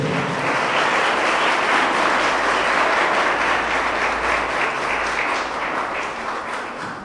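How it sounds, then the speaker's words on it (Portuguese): Church congregation applauding during a worship service, loud sustained clapping that fills the space with a rumbling low undertone before tapering gently. "E só quem crê aplauda Jesus."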